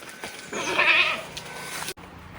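A goat bleats once, a long wavering cry nearby, over faint outdoor background noise.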